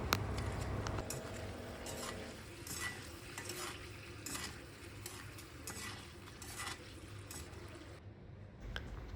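Papadums fry in hot oil, a soft, fairly quiet bubbling sizzle with repeated clatters and scrapes of a utensil against the pan, heard without talk.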